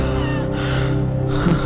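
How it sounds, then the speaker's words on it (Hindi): A man panting hard for breath after running, with loud, close gasping breaths over a steady tonal background. "तो मैं रुककर हांफने लगा।"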